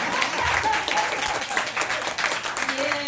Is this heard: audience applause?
yes